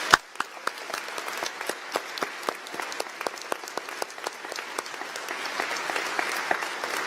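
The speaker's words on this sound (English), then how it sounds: "Please join me in giving them a round of applause." Audience applause for faculty at a college commencement ceremony, many hands clapping in a moderately loud, sustained patter that swells slightly toward the end, heard from within a large hall.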